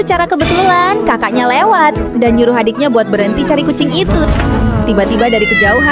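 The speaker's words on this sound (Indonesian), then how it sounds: "dengar suara kucing mengeong" A cat meows repeatedly in rising, wavering cries beneath a narrator speaking over it, with short gaps between the calls.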